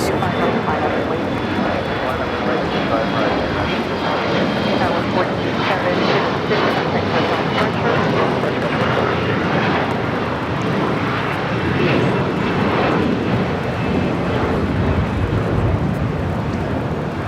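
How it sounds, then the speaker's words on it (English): An Air France Boeing 777-300ER heavy jet arriving from Paris at Los Angeles roars steadily and loudly throughout, a broad sustained engine rumble with a faint whine, voices talking over it. "We do have a Heavy arriving on the north side. It's the Air France 777, the 300ER coming in from Paris."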